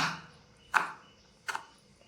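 Two crisp knife chops strike a cutting board as a potato is cut into small pieces, evenly spaced and close, with quiet room noise between them.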